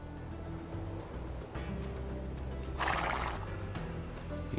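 A scout cavalry horse neighs in Age of Empires amid a continuous game soundscape with low droning tones; a loud whinny bursts out midway over the background.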